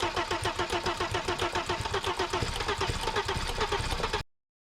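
An Audi engine cranks with ignition and injection but does not catch: a steady, rapid, chugging starter rhythm that keeps going for about four seconds, then cuts off abruptly.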